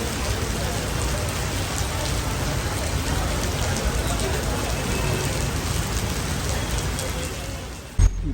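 Heavy rain pours down in Mumbai, a dense, loud, unbroken hiss of water striking surfaces close by for the whole stretch.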